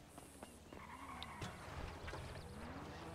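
A video game car engine revs and drones faintly with tires skidding, mixed with game effects, at low volume.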